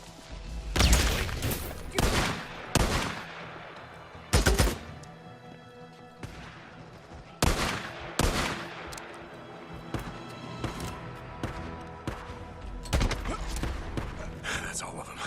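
Gunfire in the video game Days Gone comes in loud bursts of shots, some in rapid clusters and some single cracks, close and sharp, with game voices and combat noise between them.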